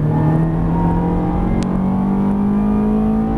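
Ferrari F430 accelerating hard on a race track, a steady loud engine roar with rising harmonics filling the whole stretch, heard from inside the car with no talk.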